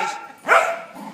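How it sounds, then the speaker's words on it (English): Several dogs fighting in a home produce one loud, close bark or yelp in a single short burst, with quieter whining before and after it. "Oh my, all the dogs are just fighting."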